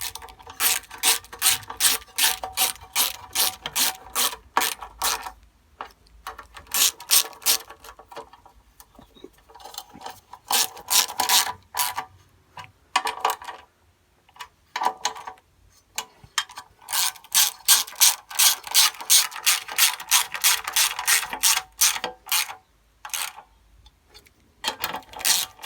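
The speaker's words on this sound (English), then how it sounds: "So I'm just going to use my little 1/4 inch socket." Small quarter-inch socket ratchet tightening bolts while rebuilding a Briggs & Stratton Pulsa Jet carburettor on an older engine: several separate runs of rapid, crisp clicking, close and alone, with short pauses between strokes.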